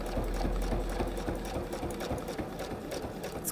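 A sewing machine stitches around the edge of a narrow bag handle, its needle mechanism whirring in a fast, steady rhythmic chatter close by, running continuously without talk.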